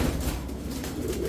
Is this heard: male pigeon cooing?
yes